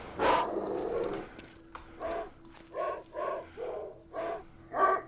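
Dogs in the video game Dark Skies 2 bark in a string of short, evenly spaced yelps over a steady low game drone, each bark distinct and moderately loud.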